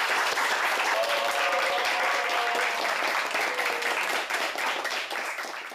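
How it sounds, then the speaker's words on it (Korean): A class audience applauds at the end of a robot-coding lesson: dense, steady clapping from many hands, loud and close, tapering off near the end. "박수!"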